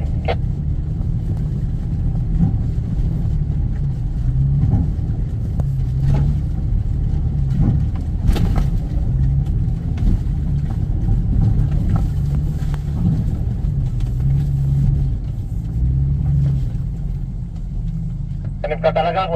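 Off-road vehicle engine revving on a mountain trail, a continuous loud low rumble with wind buffeting the microphone, with brief knocks and people talking intermittently over it.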